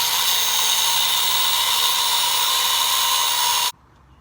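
A power drill whines loudly and steadily for several seconds drilling mounting holes for a radiator install on a Yamaha-powered cart, then cuts off abruptly, leaving quiet.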